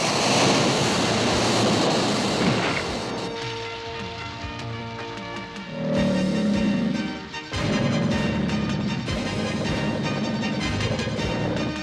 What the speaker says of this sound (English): I'll just leave the water flowing for thirsty travelers.